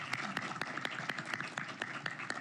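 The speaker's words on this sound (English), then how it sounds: "let's give them a round of applause" Applause for guests at a Heritage Foundation panel discussion, a short run of fairly faint, evenly spaced claps with a steady rhythm.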